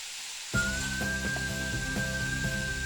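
Chopped ivy gourd hits a hot pan with curry leaves and settles into a steady sizzle, starting abruptly and continuing evenly, with a thin high whistle above the frying hiss.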